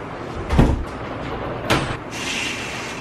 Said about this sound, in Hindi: ये दरवाजा बंद करो